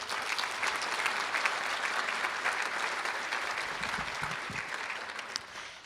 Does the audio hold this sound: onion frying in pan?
no